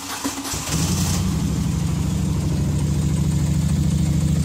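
A Moto Guzzi motorcycle engine cranks briefly, catches and settles into a steady, loud, close idle with an even low throbbing pulse, with no talking.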